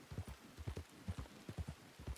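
Horse hooves clip-clop in a steady trotting rhythm in RedM, the Red Dead online game, each strike close and clear with no talk over them.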